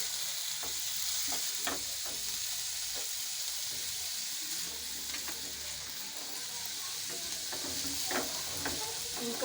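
Chicken frying in a pan with chopped capsicum, crushed carrots and shredded cabbage, giving a steady dense sizzle and hiss with occasional soft stirring knocks, heard close and without speech.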